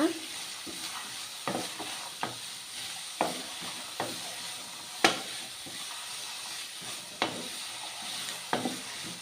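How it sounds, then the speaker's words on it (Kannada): Sliced halu gedde fries lightly in a pan with a constant sizzle and hiss, broken by repeated sharp scraping clinks of a spatula stirring at irregular intervals, close and fairly loud with no voices. "ಇವಾಗ ಇದನ್ನು ಫ್ರೈ ಮಾಡ್ಕೋಣ ಸ್ವಲ್ಪ ಲೈಟಾಗಿ"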